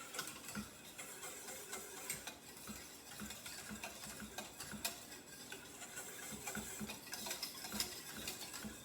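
A spoon stirs caramel pie filling made with reduced sugar in a pot, giving faint, steady scraping and soft clicking taps against the pot at an irregular pace, with no talking.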